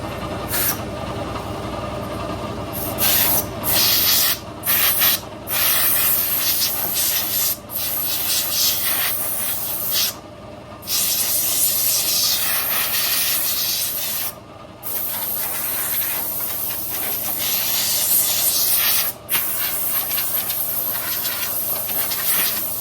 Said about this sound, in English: you can use compressed air and blow out any of the other remaining junk.